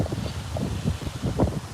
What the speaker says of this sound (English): the wind's picking up a lot